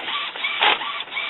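An Epson XP-series inkjet printer fitted with a continuous ink supply system whirs and buzzes as it prints, the print head's mechanical sweep rising briefly midway, close and steady with no talk.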